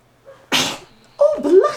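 A single sharp sneeze, brief and fairly close, preceded by quiet and followed by a short vocal sound, likely from a newborn baby.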